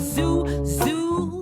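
A person voices a steady buzzing hum in imitation of an electric razor trimming and shaping a big bushy mustache, two sustained drones with a short break between, close and fairly loud.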